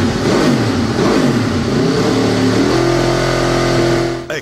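An Aprilia RSV4 Superbike engine roars loud and close, a steady high-revving howl whose pitch climbs and holds before it cuts off abruptly near the end.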